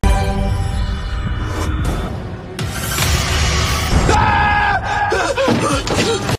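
A woman screams in terror amid loud chaotic yelling and whooshing effects in a dramatic scene, with sharp bursts of high-pitched cries and shouts overlapping throughout.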